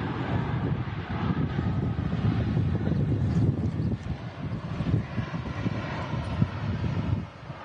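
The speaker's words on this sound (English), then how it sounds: "And touching down on 2 3 right." Passenger jet in a half-finished SunExpress livery touching down on runway 23 right at Manchester Airport ahead of Storm Agnes, a loud steady engine and wind roar throughout that drops away near the end.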